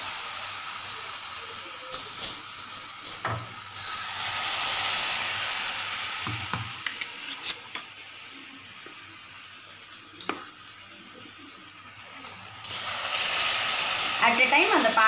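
Batter-coated susiyam balls frying in a pan over a medium flame, a steady hiss and sizzle that swells as each ball drops into the oil, with scattered clicks and pops and a louder burst near the end.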